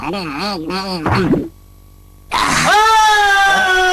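A cartoon man screams in high, wavering yelps, cut by a short silence, then a loud sustained shriek with rising pitch, close and dominant.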